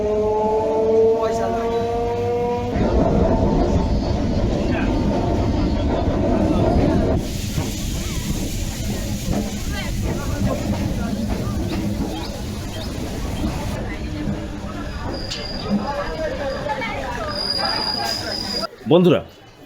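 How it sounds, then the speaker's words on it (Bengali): Namkhana local train departing Sealdah early in the morning, a loud steady rumble of carriages with wheel and rail noise and hiss, a louder section midway, then quieter running with some high squeals and a brief clatter near the end. "শিয়ালদা থেকে সকাল পাঁচটা কুড়ি নামখানা লোকালে উঠলাম"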